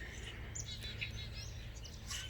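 Wild birds chirp outdoors near a backyard feeder frequented by woodpeckers, faint scattered high tweets over a low steady background hum, with no talking.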